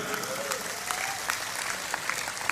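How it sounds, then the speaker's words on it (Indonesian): An audience at a religious lecture event claps in a sustained, dense round of applause, fairly close and even in loudness. "Tepuk tangan untuk Madura."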